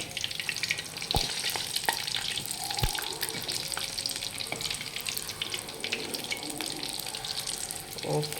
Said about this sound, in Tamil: இப்போ மிளகா பஜ்ஜி ரெடி பண்ணிகிட்ருக்கேன். அப்படியே திருப்பி போட்டுக்கலாம்.